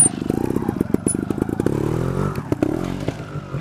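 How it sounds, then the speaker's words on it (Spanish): A trial motorcycle picks its way through a section at an event in Arnedo, its engine blipping and revving in short bursts with clattering over rocks, close by, with faint voices in the background. "Mira, Iván por fin se decide a manchar la moto"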